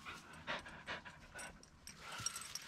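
A dog pants in quick, rhythmic breaths on a hiking trail on the Lycian Way near Kaş, close by and moderately loud, with soft outdoor ambience and no talk.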